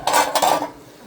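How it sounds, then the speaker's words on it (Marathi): A lid set back onto a cooking pot of steaming shepu, spinach and raw mango vegetable on a home stove, giving a short metallic clatter with a ringing tail that fades within a second, no talk. "परत झाकण ठेवायचं."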